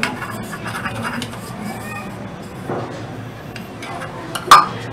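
Dry spices such as coriander powder, fennel, salt, chili and turmeric being mixed in a bowl for stuffing karela, with soft scraping and light clinks of a spoon ending in a sharper clink.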